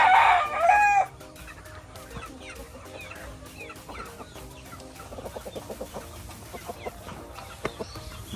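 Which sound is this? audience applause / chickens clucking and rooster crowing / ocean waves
chickens clucking and rooster crowing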